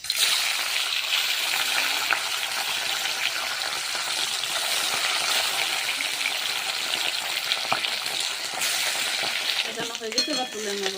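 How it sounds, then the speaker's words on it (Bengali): Marinated fish, coated in salt and turmeric, drops into hot oil in a kadai and fries in a loud, dense, steady sizzle with bubbling and spattering. Stirring scrapes break in near the end, close up, with no voices. "কড়াইয়ে তেল গরম হয়ে গেছে, এবার মাছ ছেড়ে দেবো।"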